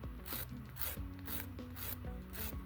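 Rhythmic back-and-forth rasping of a file on a fingernail while removing nail enhancements, quiet and close, with about five evenly spaced strokes.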